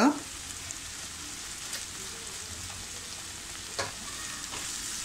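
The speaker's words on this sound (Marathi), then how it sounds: "हे सुद्धा आपल्याला अगदी तेल सुटेपर्यंत छान असं परतून घ्यायचं आहे" Spice masala of Kashmiri red chilli powder and asafoetida frying in oil for a Malvani-style veg kurma, a steady close sizzle with a few light stirring scrapes.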